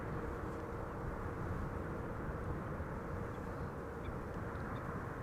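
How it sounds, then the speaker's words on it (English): An Airbus A320 airliner arriving from Paris-Charles de Gaulle makes a low, steady jet rumble, distant and fairly faint, holding even throughout with no voices. "That's an A320 arriving from Paris-Charles de Gaulle."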